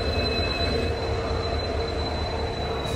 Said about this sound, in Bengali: চলে আসলো আমাদের ট্রেন চক্রধরপুর এক্সপ্রেস।